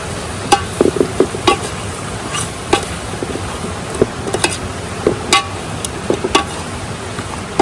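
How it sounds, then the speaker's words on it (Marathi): Masala sizzles and fries in oil in a pot being cooked outdoors in a forest for a mutton dish, with a spoon clinking and scraping irregularly against the pan over a steady close frying hiss. "हा मसाला छान आपण आधी तेलात परतवून घेऊया"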